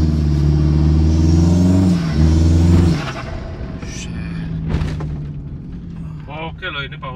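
Turbocharged car engine with an open air filter revving hard, a loud close droning roar that drops off after a few seconds into a lower rumble, with people talking over it.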